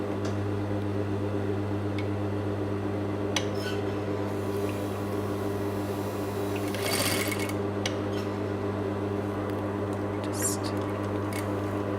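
A sewing machine runs in reverse with the reverse bar held down, stitching back over a shaped unlined pocket with a steady, even motor hum and rapid needle clatter, close and continuous.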